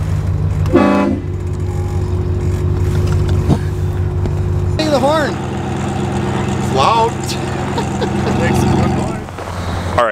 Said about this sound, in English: those horns are insane